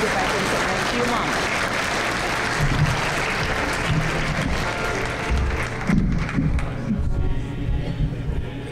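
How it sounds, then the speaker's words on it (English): Crowd at an elementary school veterans appreciation program gives a round of applause, a loud wash of many hands that thins out after several seconds, with some voices and light thumps mixed in. "Let's give her a round of applause."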